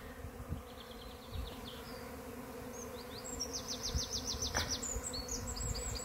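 Thousands of bees swarming as they move into a hive, a dense continuous hum with steady buzzing, close and fairly quiet, with occasional bird chirps over it.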